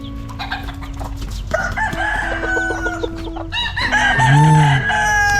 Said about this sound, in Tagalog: ito po yung mga manukan po ni Francis.